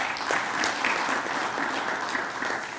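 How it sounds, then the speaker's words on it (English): Audience applause fills a hall at a launch event for draft regulations, steady and dense clapping throughout with no talk over it. "Let's give them a round of applause."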